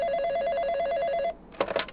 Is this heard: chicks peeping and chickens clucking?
no